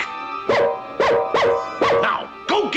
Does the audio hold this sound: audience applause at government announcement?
no